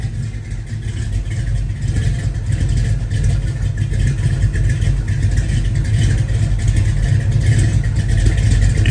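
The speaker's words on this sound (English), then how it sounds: "it's warmed up. So choke's open, it's idling" A warmed-up 1970 Ford F-100 with a Crown Vic engine swap and a new 600 CFM FST carburetor idles, its steady low rumble loud and close with a slight rhythmic lope, no voices.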